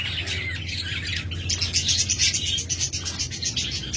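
Caged lovebirds and budgerigars chirp and twitter at a bird seller's shop, a dense overlapping chatter of many birds close by that grows busier midway.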